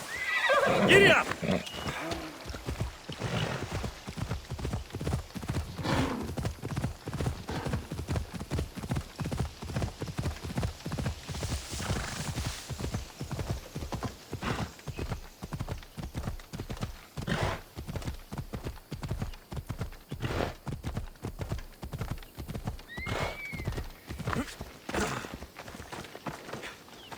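A horse gallops in the video game Assassin's Creed Odyssey, with steady rhythmic hoofbeats and a neigh near the start, while voices talk over the running gait throughout.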